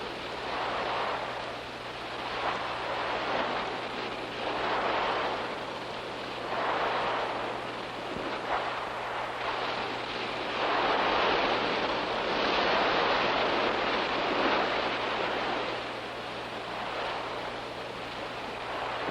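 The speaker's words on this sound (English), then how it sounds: "Let's find out what effect waves like these have on a beach." Waves break on a sandy beach face in steady surging rolls every few seconds, loud and near, with wind rumble on the microphone and no voices.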